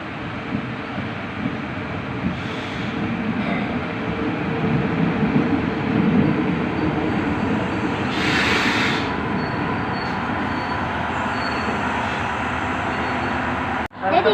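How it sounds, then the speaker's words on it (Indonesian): A train rolls past with a sustained rumble that swells and fades, a brief hiss in the middle and a sharp knock near the end. "ini kereta apinya"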